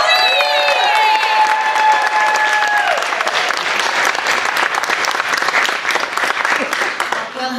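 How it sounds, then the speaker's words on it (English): An audience at a local community event in Pictou County bursts into loud, sustained applause and cheering, steady throughout after a host's voice fades at the start. "Let's give Colleen a big round of applause."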